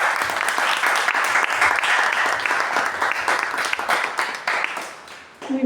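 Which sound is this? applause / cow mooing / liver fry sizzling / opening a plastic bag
applause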